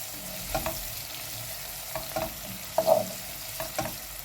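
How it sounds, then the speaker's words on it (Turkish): Soft sizzling of onions, garlic and green pepper sautéing in a pan, with occasional clinks and stirring scrapes in a steady rhythm, no voices. "Soğanlarımızı, sarımsaklarımızı pembeleşinceye kadar biraz kavuralım."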